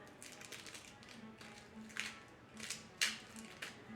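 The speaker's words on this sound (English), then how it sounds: "All right, we'll get this tape off of it." Tape peeled and pulled from a knife blade, a quiet run of small tapping and crinkling sounds with a few sharper tearing bursts toward the end, close up and faint.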